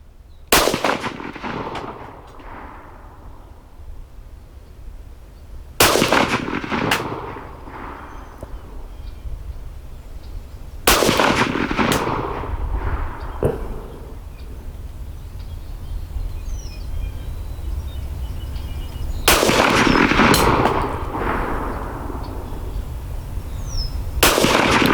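Ruger 57 pistol firing 5.7x28mm Lehigh Defense 32 grain controlled chaos copper rounds at a range, four loud, sharp shots spaced several seconds apart, each ringing out with a long echoing tail.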